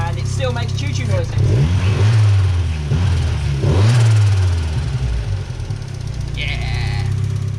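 Turbocharged Mazda MX-5 engine revving up and down in a few rising and falling sweeps, loud and close, with a steady low rumble beneath and a brief high whistle near the end.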